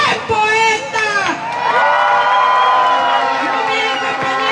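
Crowd at a university autonomy march cheers and shouts loudly and continuously, with many overlapping voices and whoops forming a dense, close roar.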